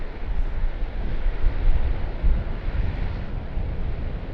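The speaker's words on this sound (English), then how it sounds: "Does look like our next movement will be the Jetstar Boeing" Jetstar Boeing 787-8 jet airliner at Sydney Airport, a broad continuous engine rumble with wind-like hiss, steady and moderately loud, gently pulsing, with no speech.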